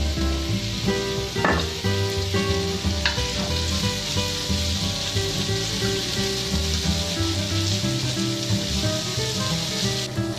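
Onions sautéing in olive oil in a pan produce a steady, close sizzle under a low humming background with tonal layers, with a few brief clinks of a utensil and no one speaking.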